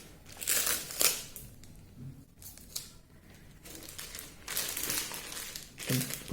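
Thin plastic bag crinkling and rustling in several bursts as a tattoo machine is slid inside, close and fairly quiet with short pauses between handling.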